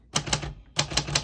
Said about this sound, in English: This one actually feels like a brand new typewriter when you type on it.